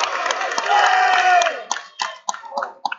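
Crowd at a high school wrestling match, Council Rock South at Quakertown, roaring and cheering loudly for about a second and a half, then breaking into scattered claps and shouts that fade in bursts.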